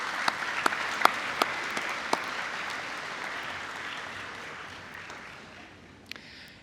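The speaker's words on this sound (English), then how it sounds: "Graduates, please give your friends and families a big round of applause." Audience applause fills a graduate commencement ceremony for the class of 2023, a steady sustained crowd clapping with a few sharper individual claps standing out, gradually tapering toward the end.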